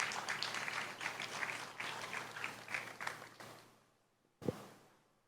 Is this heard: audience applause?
yes